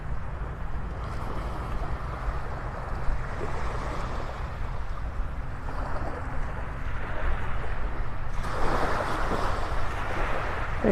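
Wind and surf on the beach at Delnor-Wiggins in North Naples, Florida: a steady rush of breaking waves with gusts buffeting the microphone, louder surges near the end, no talking.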